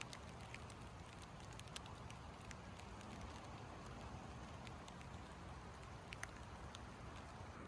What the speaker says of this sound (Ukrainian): І дощик почався, ось так.